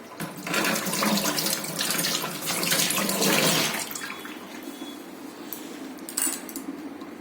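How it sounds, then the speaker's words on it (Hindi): Tap water runs steadily into a kitchen sink as hands are washed while bel sharbat is being made, a close, loud splashing flow that softens partway through and continues at a lower level. "हैंड वॉश कर लेती हूँ"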